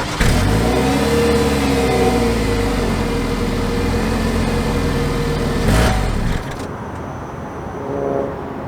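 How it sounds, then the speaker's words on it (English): A 2022 Nissan Rogue Sport SV crossover runs loudly with a steady engine drone, then the engine abruptly cuts out near the end as the fuel runs dry, leaving a faint lower hum. "The car ran out of gas the second that I started it up to do the test drive portion."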